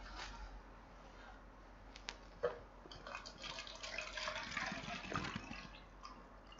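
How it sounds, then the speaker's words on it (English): Water runs into a bucket from a tap, a quiet, continuous splashing gurgle that swells and grows busier toward the end. "So let me fill the bucket with water and let's insert the sensor."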